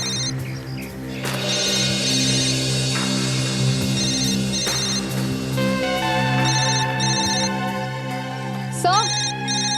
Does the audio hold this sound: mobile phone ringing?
yes